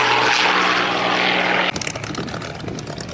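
A Russian propeller-driven warbird fighter at an air show roars loudly and steadily, then the sound cuts abruptly into a rougher, choppier engine and wind noise.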